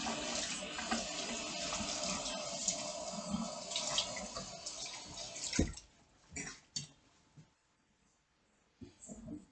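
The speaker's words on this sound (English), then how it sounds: "I'm gonna wash and add these grapes." Grapes are rinsed under a running kitchen tap. Water pours steadily, then cuts off, leaving a few close splashes and drips.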